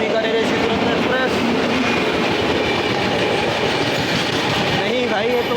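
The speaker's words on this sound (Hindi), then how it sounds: "ये तो वो है गांधीधाम कैपिटल एक्सप्रेस है" Gandhidham Capital Express rolling past on a parallel track, a loud continuous rumble with rhythmic wheel clatter and occasional squeals, heard close from aboard another train.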